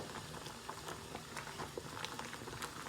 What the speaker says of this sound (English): kind of hard to stir this with one hand without the whole pot spinning out of control